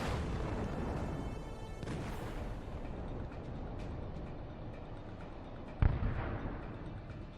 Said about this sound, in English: The first Russian APC is hit by several mines at once.